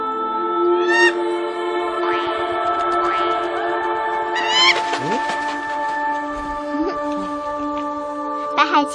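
A white gyrfalcon cries in a Chinese fantasy period film, with repeated short rising bird calls over a sustained musical score, several calls in the first seconds and more scattered later.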